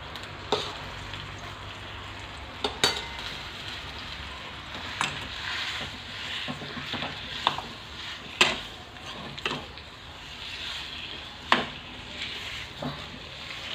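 Dates and dry fruits roasting in ghee in a pan, heard as a soft steady sizzle broken by sharp spoon clicks and scrapes against the pan at irregular intervals.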